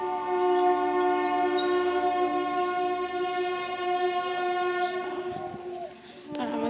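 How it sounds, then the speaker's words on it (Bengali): A train passes on a foggy day, its horn sounding a long, loud, sustained harmonic blast over rolling rail noise that shifts and fades near the end. "আর আমাদের এখান থেকে ট্রেন যাচ্ছে"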